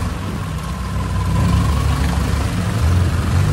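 A motorboat engine on a river market ride in Bangkok drones with a steady low rumble that swells slightly as it speeds up, continuous and close, with no one speaking.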